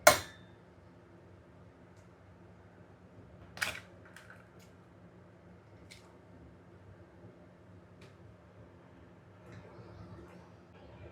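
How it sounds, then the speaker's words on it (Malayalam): A raw egg is cracked carefully for an omelette in a quiet kitchen, giving one sharp, brief crack alone with a few faint clicks afterward. "അടുത്ത മുട്ടയും ഇതുപോലെ എടുക്കുക സൂക്ഷിച്ച് പൊട്ടിക്കുക"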